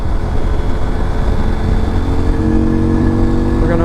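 A 2023 CFMOTO IBEX 800 T adventure motorcycle ridden on the road, its engine droning steadily and rising slightly in pitch as it accelerates, with rumbling wind noise throughout.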